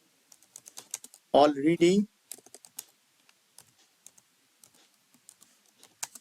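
Light clicking of a computer keyboard being typed on in short irregular bursts, fairly quiet and close, with a brief spoken word partway through.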